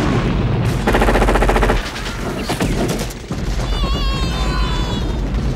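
Gunfire from the action film Predator, loud rapid automatic bursts and heavy booms with a film soundtrack underneath, with a high whistling tone rising late in the clip.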